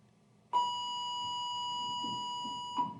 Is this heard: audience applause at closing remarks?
no